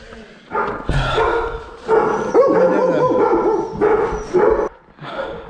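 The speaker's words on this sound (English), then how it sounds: "The dogs are barking." Several dogs bark inside a kennel in repeated loud, close bursts, with yips and a brief whine mixed between the barks.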